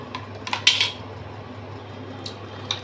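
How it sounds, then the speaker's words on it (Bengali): A knife cutting raw ridge gourd on a board in a home kitchen, giving a few quick crisp taps close up, then a quieter stretch and one last small tap. "ঝিঙেটা কেটে নিচ্ছি যেরকম করে কাটতে হয়"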